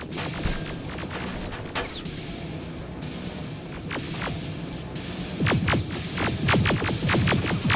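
Gunfire in the video game Terminator Resistance comes as sharp repeated shots, scattered at first, then a dense rapid volley near the end, over a steady background rumble.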